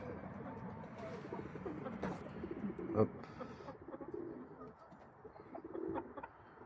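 Soft, low pigeon cooing murmurs nearby, repeated throatily under faint background noise, with a brief spoken word.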